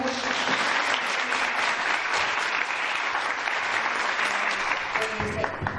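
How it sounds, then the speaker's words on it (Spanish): An audience at a citizen workshop claps steadily and densely for several seconds, loud and continuous, with a voice faintly audible near the end. "Un aplauso, por favor."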